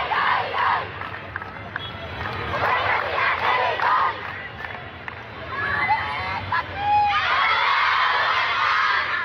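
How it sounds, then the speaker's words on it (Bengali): Female madrasa students at a sit-in in Feni chant slogans demanding their principal's resignation, a loud, dense crowd of voices rising and falling in continuous waves with shouted calls throughout. "আমি দেখতে পাচ্ছি যে মেয়ে শিক্ষার্থীরা তারাও আসলে বিভিন্ন স্লোগান দিচ্ছেন।"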